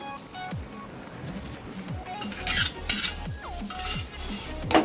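Pasta gets mixed with white sauce in a pan, with irregular scraping and clinking of a utensil against the cookware and a faint simmer beneath, close and moderately loud.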